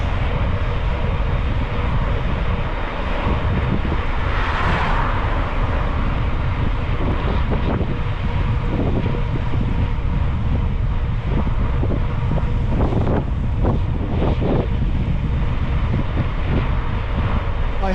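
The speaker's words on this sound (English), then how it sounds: "I have wind from behind" Strong wind roars across the microphone without pause on a bike ride through Sirdalen in Norway: a loud, steady rushing with gusty swells and no voices.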